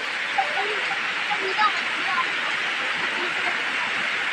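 Heavy rain pours during a storm as a dense, steady hiss that fills the whole stretch, with a faint voice barely showing beneath it.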